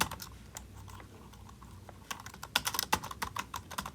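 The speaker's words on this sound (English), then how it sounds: "you're gonna type in your name." Someone typing on a computer keyboard, quiet scattered keystrokes at first, then a faster, louder flurry of clicks, close and without speech.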